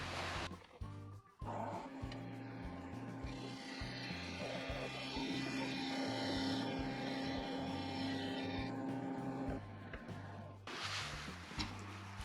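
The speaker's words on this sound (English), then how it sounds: "I'm going to try just shear scraping that" A wood lathe hums and whines as a tool shear-scrapes the inside of a segmented wooden vessel. A thin, steady scraping rides over the motor drone for several seconds, close and moderate, before the cut lifts off.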